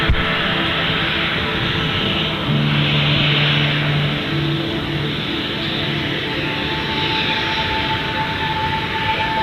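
Airplane departing Gold Coast Airport, a loud continuous engine roar with steady broadband rumble and faint sustained tones throughout, heard from outdoors without talk.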